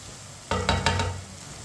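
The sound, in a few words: ginger and garlic frying in a pan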